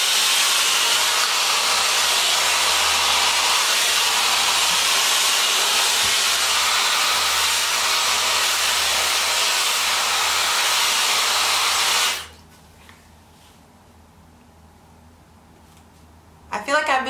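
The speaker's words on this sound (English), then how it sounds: "So I'm going to go ahead and diffuse my curls." A hair dryer with a diffuser drying curly hair, blowing as a loud steady hiss for about twelve seconds before switching off into near silence.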